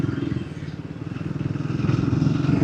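A motorcycle is ridden on a road through traffic while overtaking, its engine pulsing in a rapid throb that grows louder and revs higher toward the end.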